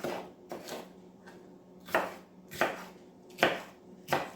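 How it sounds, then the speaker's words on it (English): A knife chops a pepper into chunks on a board, about seven sharp, separate thuds in an uneven rhythm, close and fairly quiet, with no speech. "And then just cut it into chunks."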